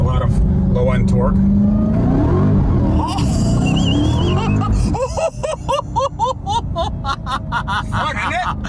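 A supercharged Dodge Charger Hellcat Redeye engine accelerates, a loud, close rising whine and roar that builds, then breaks into pulsing bursts as revs climb repeatedly, with excited voices talking over it.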